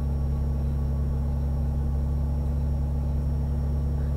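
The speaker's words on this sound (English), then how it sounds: "the turbo's really giving it something, isn't it? You can hear it. It's like whistling." A heavy truck engine in Euro Truck Simulator 2 drones at a constant low pitch, with a thin, faint turbo whistle sitting on top of the steady rumble and no talking.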